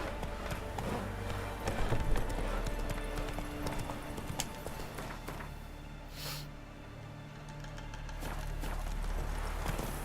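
Hooves of Roach, Geralt's horse in The Witcher 3: Wild Hunt, clip-clopping in a steady trotting rhythm at close range, with a faint snort and ambient game sound beneath.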